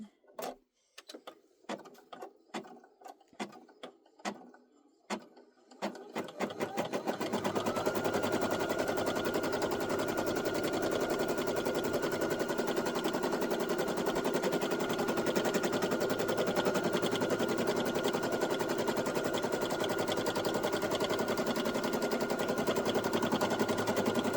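A Brother SE1900 embroidery machine stitching a coffee coaster starts with a series of separate sharp clicks, then settles into a loud, steady, rapid mechanical hum of stitching that runs on without a break.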